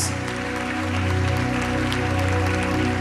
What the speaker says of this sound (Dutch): En geef ook Amira Reina een flink applaus.